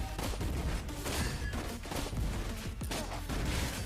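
Rapid normal-attack gunshots from Granger in the Mobile Legends mobile game, a dense burst of repeated shots running continuously and loudly.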